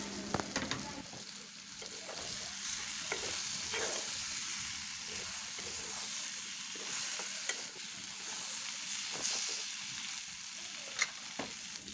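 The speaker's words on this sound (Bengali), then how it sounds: "এভাবে 4 থেকে 5 মিনিট মাছটাকে একটু ভেজে নেব" Puti fish frying in oil over a medium flame, a steady close sizzle with scattered spatter pops and occasional stirring scrapes, no talking.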